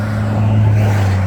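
A truck passing on Highway 271/59, a steady loud low rumble of its engine and tires that holds close and strong throughout, with no voices.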